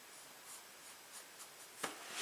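A paintbrush lays gouache onto watercolor paper in soft, quiet downward strokes, a gentle rubbing swish repeated several times with a slightly louder stroke near the end.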